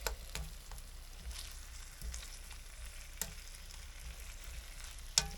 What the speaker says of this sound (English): Just gonna scramble the eggs in with the sausage.